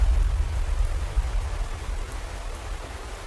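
Steady rain pours across the open African savanna, a dense, even hiss of drops with a heavy low rumble underneath, continuous and close with no voices.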